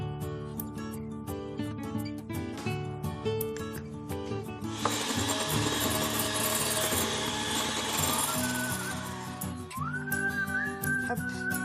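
Saffron-infused egg whites whipped into stiff peaks, starting with scattered clinks and scrapes before a dense, steady whirring rush takes over midway, then a thin rising tone near the end.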